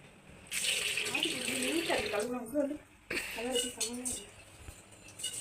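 Tap water runs steadily in a home kitchen as moong dal is rinsed for pongal, in two close bursts split by a short pause, with faint clatter from the dal and vessel.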